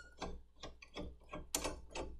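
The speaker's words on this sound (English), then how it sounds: "Loosen the nut" A nut on a gas valve is loosened with a wrench during an annual heater service, giving a series of close, quiet ratcheting clicks in about six evenly spaced bursts with no talk.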